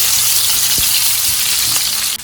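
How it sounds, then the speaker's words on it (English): Potatoes frying in a pan, a close, steady sizzle with a few brief stirring scrapes. "While my potatoes are frying"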